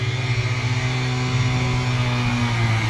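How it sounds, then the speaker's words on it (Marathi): A vehicle engine running steadily with a low rumbling idle and slight revving, just started after sitting unused for many days, close and continuous with no talk. "लय दिवसातनं गाडी चालू केली"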